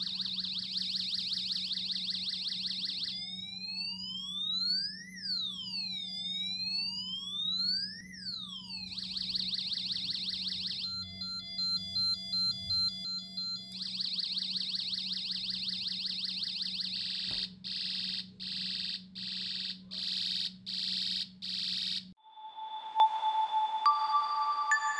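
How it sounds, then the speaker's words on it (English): A DIY siren generator circuit built on a breadboard cycles through electronic police and ambulance effects: rising and falling wails, rapid warbles, steady two-tone hi-lo pulses and chopped beeps, loud and continuous, with no speech. "we're building a siren generator with various sound effects like police, ambulance, and two other sound effects"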